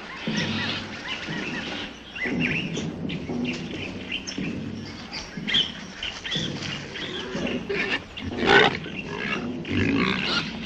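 Wild pigs grunt and squeal in a busy, continuous jumble in a 1950s film scene, with overlapping snorts and higher chirping squeals at moderate loudness and no clear pauses.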